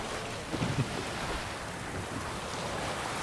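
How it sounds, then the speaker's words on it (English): A boat moving across water in The Witcher video game, with a continuous wash of waves and wind and a few low thumps of water against the hull near the start. "We will travel by boat."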